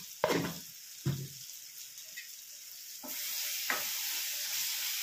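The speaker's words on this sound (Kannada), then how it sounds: "ಹಂಗೆ ಈ ಕಡೆ ಪಲ್ಯ ಕೂಡ ಕೈ ಆಡ್ತಾ ಇರ್ಬೇಕು ನೋಡ್ರಿ" Eggplant curry frying in a pan, a few sharp scrapes and knocks of stirring followed by a steady quiet sizzle that grows slightly louder.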